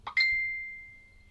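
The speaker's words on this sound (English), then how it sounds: "Phone's going off somewhat chronic" A phone notification chime sounds once, a short bright two-note ping that rings on with a long clear decay in a quiet room.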